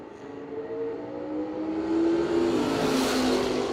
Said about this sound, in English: Second gen Camaro getting ready to go.